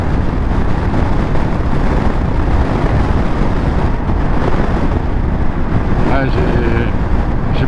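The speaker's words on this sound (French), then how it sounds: "Et il y a un vent, mais très fort." Very strong wind roars steadily into the microphone on a motorcycle road trip in Morocco aboard a BMW R 1250 GS Adventure, a loud unbroken buffeting that persists throughout.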